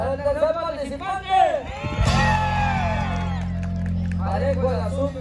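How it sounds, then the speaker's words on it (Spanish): Whoops and yells rise briefly from a jaripeo-baile audience at a small-town Mexican bullring for a child contestant, following an announcer on a PA and fading into a steady low hum. "Aplauso para el tercer participante."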